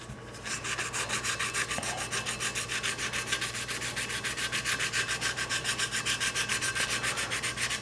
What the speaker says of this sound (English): I use 320 grit sandpaper, and just lightly start sanding the surface.